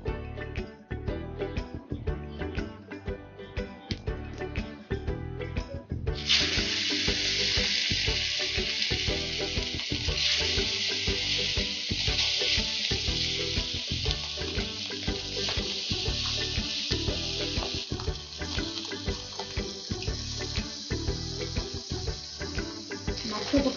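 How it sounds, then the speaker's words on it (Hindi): Small chuna fish fry in hot oil in a kadhai, a dense continuous sizzle with crackling pops that grows brighter and fuller after the first few seconds and keeps on steadily, no talk. "एबे चलतु मुझे देखो कढ़ईटा गरम कर किसी तेल देकी माछ को भाजी नवा।"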